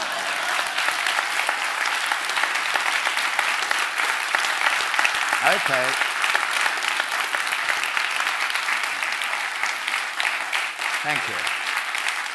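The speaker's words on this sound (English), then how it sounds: "I think I should get a very big round of applause" Sustained audience applause closes a speaker's 2015 Whincop Memorial Lecture on law, a steady wash of many hands clapping for the whole stretch while someone speaks over it near the mic.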